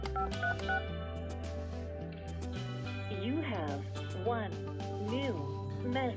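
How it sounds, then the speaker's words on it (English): A Fanvil V61G phone keypad gives a series of PIN tones: steady dialing beeps in quick succession, with an automated voice prompt playing over them. "Just enter your PIN and follow the voice prompts"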